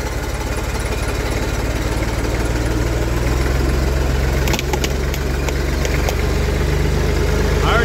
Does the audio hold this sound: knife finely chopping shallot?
no